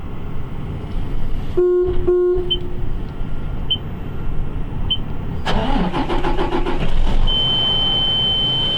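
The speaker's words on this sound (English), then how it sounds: "The next time I push the green button, the truck's going to start." A Bell B50E articulated dump truck sits idling, two short beeps sound, then the diesel engine cranks and catches, rising into a loud close rumble with a steady tone alongside.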